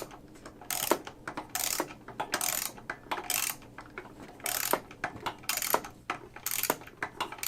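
A bolt on the fuel tank of an Echo CS-590 Timberwolf chainsaw is tightened by hand with a small tool, giving repeated close, crisp metallic clicking bursts in an uneven rhythm with short pauses, and no talking.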